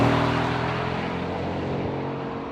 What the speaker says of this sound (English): As we're driving the Chiron on the roads around Molsheim